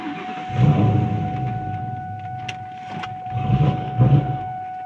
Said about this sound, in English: Now start the car and let it idle for a few minutes or until it runs out of fuel.